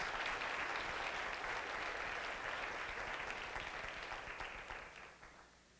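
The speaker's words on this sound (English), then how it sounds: "So can we give a round of applause?" Sustained applause from an audience at a community health forum dinner, a dense even wash of clapping that holds steady and then tapers off near the end.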